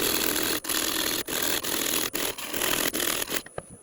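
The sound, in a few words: parting tool cutting into oak burr on a lathe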